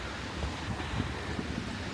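Fountain water feature splashing in front of a museum in a Shanghai sculpture park, a steady broadband wash of falling water with some wind noise, continuous and moderately loud throughout, no talking.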